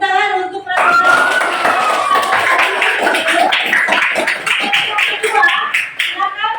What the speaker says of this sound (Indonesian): tepuk tangan untuk presentasi